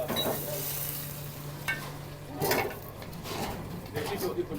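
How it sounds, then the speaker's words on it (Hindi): Tadka of desi ghee sizzles and crackles in a pan at a busy Chandigarh street-food dhaba, with stirring and brief clatter over steady kitchen noise and voices in the background. "ये सर देसी घ्यो का तड़का"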